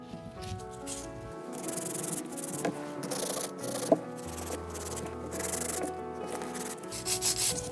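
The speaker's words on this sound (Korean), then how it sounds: "전체 샌딩. 샌딩 하실 때도 사이드 쪽까지 꼼꼼하게." A nail file sanding an artificial nail tip during a natural tip with wrap nail-art exam task, producing faint, continuous close-up rubbing strokes under soft background music, with no talk.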